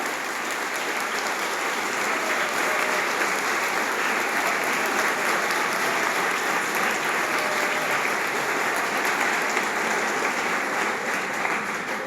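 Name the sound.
audience applauding loudly after a speech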